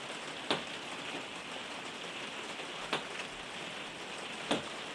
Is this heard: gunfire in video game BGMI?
no